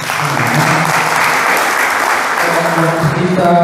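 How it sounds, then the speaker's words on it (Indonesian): An audience at a church talk breaks into sustained applause, a dense clatter of clapping that stays loud and even throughout, with a few voices murmuring underneath. "beri aplaus"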